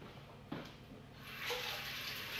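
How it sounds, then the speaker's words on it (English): Tap water running steadily from a kitchen faucet while hands are washed, starting with a soft splash and growing into a continuous hiss that lasts to the end. "I'm gonna wash my hands and let's get going"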